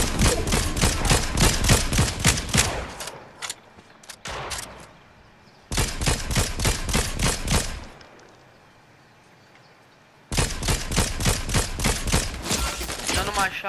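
Rapid bursts of automatic gunfire in a late-game battle royale arena match, three long dense volleys loud and close, broken by short gaps with quieter scattered shots.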